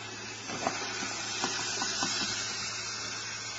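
Onion sizzling in a pan with browning hamburger and garlic salt, a continuous close hiss of frying with faint scattered pops and stirring taps, no voices.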